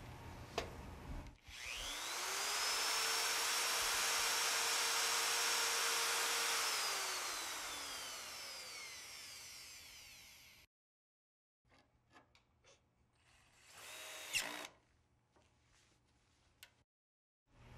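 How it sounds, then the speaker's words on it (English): A power drill fitted with a 1/8-inch bit drills pilot holes in lumber for a shipping crate: a loud whining run of several seconds that spins up and winds down, followed by quieter handling noises and a brief second burst. "You'll want to drill pilot holes to avoid splitting the wood. Use a 1/8-inch drill bit to do this."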